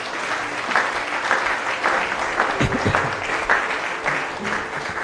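A church congregation applauding, steady dense clapping from many hands across the room, sustained for several seconds with a few voices mixed in.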